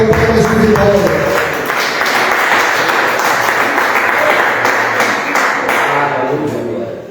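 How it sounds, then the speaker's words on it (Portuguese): A church congregation claps together in celebration after a prayer, a loud, full burst of many hands that starts with a brief voice and music underneath, then holds steady and fades slightly at the end. "Podemos assentar com palmas de vitória."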